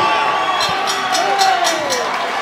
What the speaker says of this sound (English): Stand and applaud. The whole crowd are on their feet.